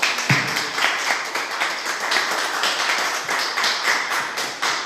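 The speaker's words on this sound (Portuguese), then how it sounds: "E vamos aplaudir a palavra do Senhor." A church congregation at a Sunday service applauds, a dense, sustained round of many hands clapping throughout, filling the room with steady claps.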